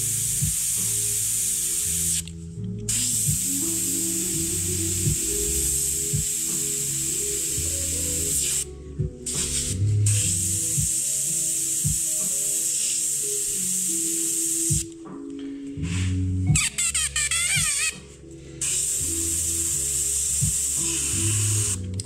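A spray paint can hisses loudly onto canvas in long continuous bursts, broken by brief pauses, with a steady mechanical hum beneath.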